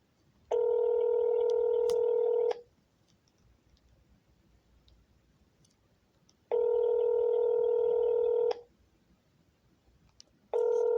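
A telephone rings out while calling a police department, two long steady ringback tones separated by a quiet pause, with the start of a third at the end, clear and alone with no talk.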